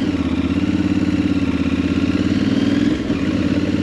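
A motorcycle engine runs at a steady, close, rhythmic drone with a low throb, then a brief dip and change in tone near the end as the gear shifts down, with no one speaking.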